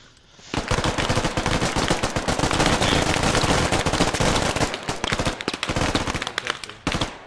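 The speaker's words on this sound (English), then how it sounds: "celebratory mag dump" Long burst of automatic rifle fire emptying a full magazine in the military shooter game Squad on the Gorodok map. The close, loud stream of shots runs for several seconds, then breaks into scattered single cracks.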